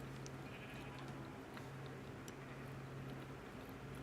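Sheep in the Minecraft video game bleat a few times, short and fairly faint, over a steady low game hum, with no talking.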